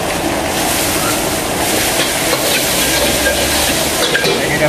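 Vegetables being stir-fried in a hot wok for cockle koay teow, a loud continuous sizzle with scraping and stirring throughout, close up and without talk.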